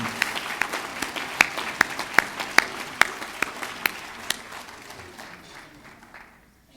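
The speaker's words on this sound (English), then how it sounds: "Let's give these ladies a big round of applause" Applause at a National Guard association banquet, a crowd clapping with a few loud, sharp individual claps standing out at a steady rhythm before the applause fades away toward the end.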